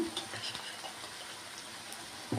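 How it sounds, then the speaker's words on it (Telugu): Ginger garlic paste frying with softened onions in a pan, a low, steady sizzle with faint stirring scrapes throughout, fairly quiet with no talking. "ఇప్పుడు అల్లం వెల్లుల్లి కొంచెం ఫ్రై అయింది కదండి"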